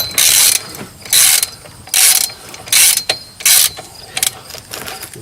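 Ratchet wrench clicking hard while loosening the inner tie rod on a Pontiac G6, five loud rasping bursts about a second apart with short pauses between, close up and with no talk.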